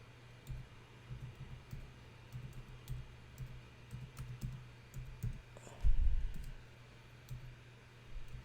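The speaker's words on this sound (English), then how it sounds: "I hate typing with one hand." Soft, irregular clicking of keys being typed, close by and fairly quiet, with a slightly louder burst of key presses near the end.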